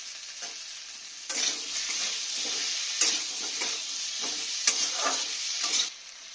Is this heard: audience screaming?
no